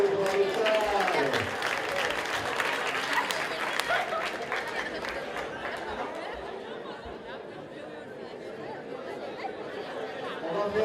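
A conference hall audience at CICES applauds for Chad, with steady, dense clapping mixed with crowd chatter and scattered voices throughout.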